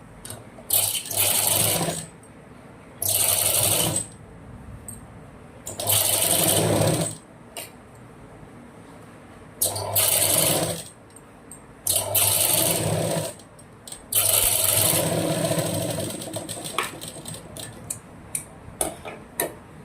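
A sewing machine stitches a blouse front in several separate bursts of steady, rapid needle chatter, each lasting about a second or two, with quieter pauses between them and no talking.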